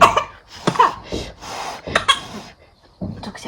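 A child coughs repeatedly in short harsh bursts, close by, with brief pauses and breaths between the coughs.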